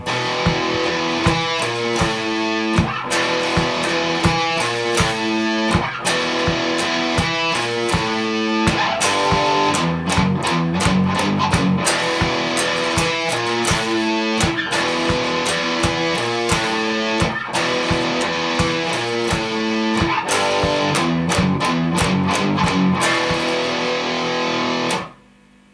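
A distorted electric guitar plays a main riff, with palm-muted chugs and ringing notes repeating in a steady, driving rhythm, loud and unaccompanied, ending abruptly.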